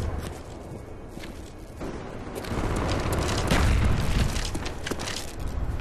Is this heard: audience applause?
no